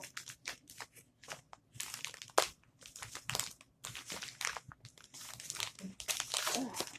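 Strong tape being pulled and handled up close, giving rapid irregular crinkling and crackling bursts, fairly quiet, with brief pauses between the rustles.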